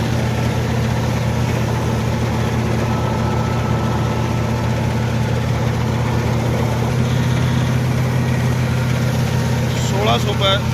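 A Massey Ferguson 9500 tractor's non-CRDi engine runs steadily throughout, a loud, constant low rumble with a droning hum and no breaks.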